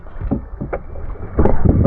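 Paddles splash and stroke through water from a small rowboat, with uneven dips and swishes close by, growing louder toward the end amid faint wind.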